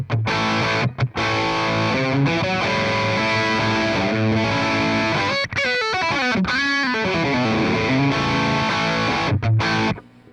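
A loud, distorted electric guitar played through an OCD overdrive pedal into a Twin Reverb amp plays chords and riffs, thick and crunchy overdriven tone, with a couple of brief pauses between phrases.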